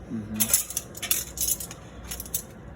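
Metal utensil clinking and scraping against a plate while sausages are cut apart, several sharp close clicks and scrapes spread over a few seconds with no talking.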